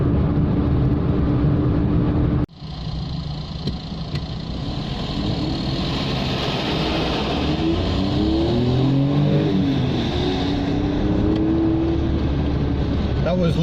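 Interior of a 1999 Daewoo Matiz driving on a British road, a steady droning engine and road hum with a brief gear-change dip, tyre and wind noise throughout, and someone talking over it.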